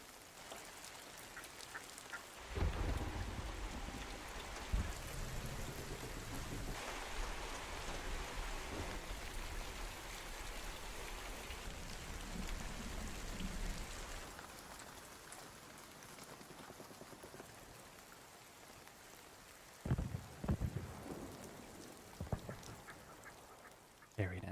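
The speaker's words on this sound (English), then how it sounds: "let's listen to the wonderful audio of Thunder Shower" Thunder shower ambience from a video game, with steady rain hissing throughout, heavy rumbling swells, and sharp cracks of thunder near the end. Scattered quacking-like sounds are mixed in.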